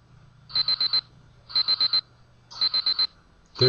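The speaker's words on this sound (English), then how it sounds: "There's the alarm." A RobotBASIC animated alarm clock rings in three clear bursts of four rapid electronic beeps each, evenly spaced about a second apart, loud and alone over a faint low hum.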